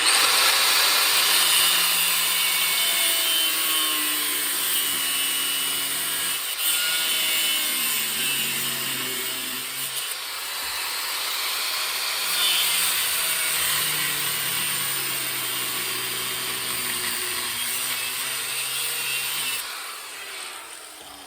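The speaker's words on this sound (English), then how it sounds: "I'm just going to cut the shock to release the bushing." A power saw cuts through an original Jaguar shock absorber to free its bushing, a continuous gritty rasping grind with wavering pitch that carries on for about twenty seconds, up close and loud, with only a brief dip in the middle.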